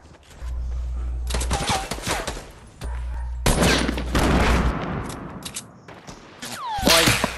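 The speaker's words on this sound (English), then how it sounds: "Man in distance shooting me, yeah?" Rapid bursts of gunfire crackle in the video game Fortnite, several dense volleys separated by short gaps over a low background drone, with a sharp ringing hit near the end.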